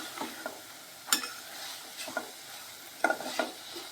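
A spoon stirring tomatoes and peas in a pan for a mixed vegetable curry, with scattered scraping clicks and a light sizzle underneath, close and fairly quiet, no talking.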